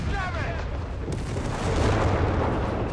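Heavy mortar fire in the World War II strategy game Company of Heroes 3, a dense continuous rumble of booming impacts and blasts filling the whole stretch, loud and close, with battle noise layered throughout.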